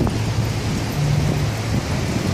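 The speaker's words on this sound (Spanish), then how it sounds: "Empieza a llover muy fuerte acá en la ciudad de Cali" Heavy rain pouring down in the city of Cali near a bridge, a loud steady roar of rainfall with low traffic rumble beneath it.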